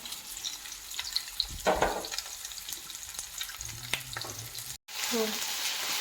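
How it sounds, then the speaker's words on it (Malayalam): Cubed potatoes and onion fry in hot oil in a pan for a Coorg dish, with a steady close-up sizzle, a brief louder hiss and a few stirring scrapes. "2 ഉരുളക്കിഴങ്ങും 1 ഉള്ളി ക്യൂബ്സായി അരിഞ്ഞു വെച്ചതാണ്. അത് നമുക്ക് 2ഉം കൂടി ഇതിലേക്ക് ഇടാം. ഇതൊന്ന് ഫ്രൈ ചെയ്തെടുക്കണം കേട്ടോ."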